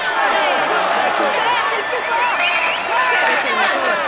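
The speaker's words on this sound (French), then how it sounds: "Allez, on applaudit encore." Crowd applause and cheering at the podium ceremony of a Tour de France cycling video game, a steady dense wash of clapping mixed with whistles and voices, with a commentator talking over it.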